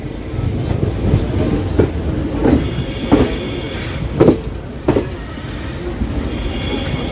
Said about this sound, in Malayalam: ട്രെയിൻ ഇതാ കോഴിക്കോട് എത്തുകയാണ്